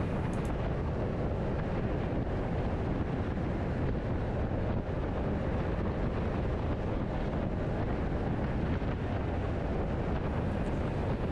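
Steady, loud wind buffeting roars continuously while riding a Honda SH350i scooter in the rain, the camera set behind the windscreen, with no talk over the broadband rush.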